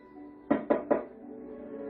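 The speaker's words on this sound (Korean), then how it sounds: "현관문을 두드린다." Three crisp knocks on a front door, evenly spaced and close, fading into a quiet room.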